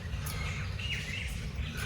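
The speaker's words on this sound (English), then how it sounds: "You can hear the birds." Faint, scattered chirps from birds in a tropical bird enclosure in Delhi rise over a steady, low ambient rumble, with no clear single caller standing out.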